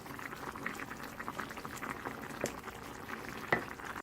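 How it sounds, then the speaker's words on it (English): A lemongrass stew simmers as basil is stirred in: a quiet, steady bubbling with soft wet movement and a couple of faint clinks, no voices. "So now what we're going to do is go ahead and throw in the basil. Just go ahead and mix that up."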